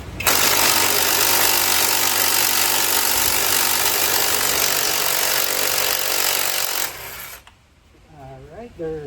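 An impact wrench drives an OLSA swivel socket to loosen brake caliper mounting bolts, hammering loudly and continuously for about seven seconds before cutting off abruptly, with a brief voice afterward.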